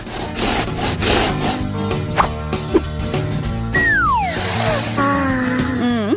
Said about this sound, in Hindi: इसे आधे में काटती हूँ कि खाने में आसान हो।